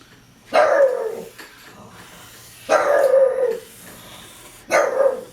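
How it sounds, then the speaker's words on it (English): A dog barks at passing cars through an open front door in three separate bursts, each a loud, drawn-out bark that trails off, with pauses between them. "I have the front door open and BB wants to bark at the cars."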